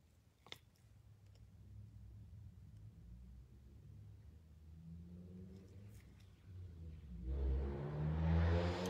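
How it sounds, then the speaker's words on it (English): Road traffic passes outside a workroom with a low rumble that swells into a louder vehicle pass near the end, distant and steady. "Y'all hear the traffic?"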